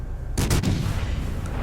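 The main guns of the battleship Izmail fire a salvo in the video game World of Warships Legends: two sharp, close, loud blasts in quick succession, then a fading rumble.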